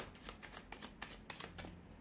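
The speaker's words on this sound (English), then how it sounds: "We'll give the cards a shuffle and see what they predict for you this coming month." A deck of tarot cards being shuffled by hand, with a steady run of quick riffling flicks and soft slaps close up, fairly quiet and with no talk.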